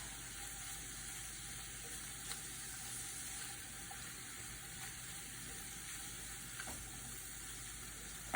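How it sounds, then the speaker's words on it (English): Tofu browning in a frying pan over moderate heat, a faint, steady sizzle and crackle with occasional small pops, alone and without talk. "So I just let the tofu brown, and you might want to turn your heat up a bit more than I've got here, just to grill it a bit"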